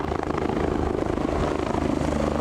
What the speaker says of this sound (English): the Westpac helicopter has had to abort its mission